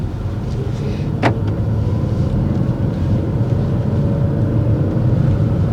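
Car held in first gear on a driving test, the engine droning steadily and loudly at high revs throughout, with faint cabin rattles.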